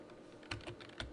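A few quick clicks of computer keyboard keys as a search word is typed, about four keystrokes over a second, close and fairly soft against a quiet room background.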